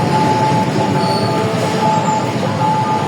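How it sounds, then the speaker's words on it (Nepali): A freight train rumbles steadily past at close range, loud and continuous, with a faint metallic squeal from the wheels. "यसरी जाँदो रहेछ कार्गो रेल"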